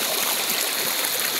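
River water flowing at the Laya River in Talisay City, Cebu, a loud, close, continuous rushing hiss with no other sounds over it.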